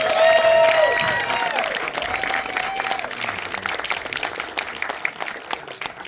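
A live crowd at a Star Trek: Strange New Worlds season 3 finale Q&A applauds and cheers, with a few loud whoops at first and then sustained clapping that gradually thins.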